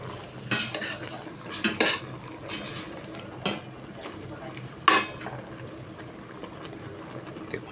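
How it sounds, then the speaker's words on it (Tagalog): Chicken adobo with potatoes being stirred in a pan: several scraping clinks of a utensil against the pan over a low sizzle, with one sharper knock near the end. "Haluin natin."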